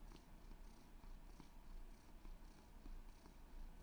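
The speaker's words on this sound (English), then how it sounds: "Okay, now I can hear the purring." An orange cat purrs close by, quiet but steady, with a rhythmic rise and fall of breaths repeating about every half second.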